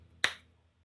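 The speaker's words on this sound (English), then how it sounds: "So snap your fingers and we'll be right back." A single sharp finger snap, close and crisp, rings out alone over a faint low hum and fades within a fraction of a second.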